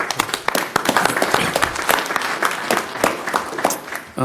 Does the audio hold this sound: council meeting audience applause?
yes